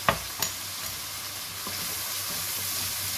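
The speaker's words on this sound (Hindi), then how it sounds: "उस वक्त तक मैं इसकी भुनाई करूंगी जब तक कि इसका कच्चापन ख़त्म नहीं हो जाता" Masala of turmeric, coriander powder and tomatoes roasting in a pan for pumpkin curry: two sharp spoon knocks open, then a steady close hissing sizzle with faint stirring scrapes, no talk.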